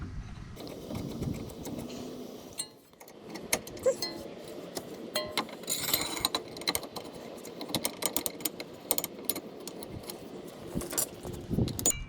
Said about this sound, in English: it just tighten up the inner tie rod